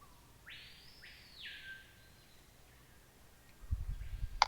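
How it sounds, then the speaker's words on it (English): Video game birds in Verum give two quiet rising whistled chirps followed by faint trailing calls, with soft low thumps near the end. "They are chirping happily since you seem to have gained 2 successful stones."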